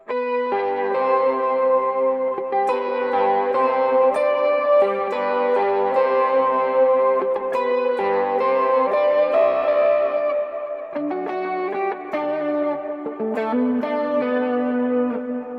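An electric guitar through a Quad Cortex with vibrato and chorus effects plays a continuous chordal and melodic passage, shimmering and wavering, loud and up front with no talking.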